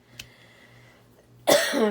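A single close cough breaks a quiet stretch, short and rough.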